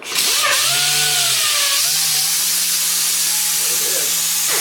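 A power sander wet sanding with water fed through the pad whirs loudly and steadily with a high, hissing wash of sound, its pitch dipping briefly before settling into a constant hum.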